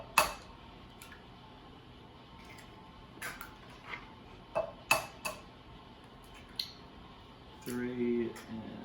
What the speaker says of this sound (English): Crack those into a bowl and scramble them up with a fork.